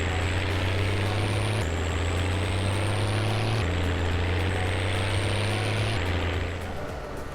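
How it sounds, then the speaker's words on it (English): John Deere tractor engine with a gearbox mod in the Farming Simulator 17 video game: a loud, steady diesel drone with low rumble, stepping in pitch at several gear shifts, continuous and close, with no talking. "Oh god, I love this tractor. It sounds so great. And especially with the gearbox mod,"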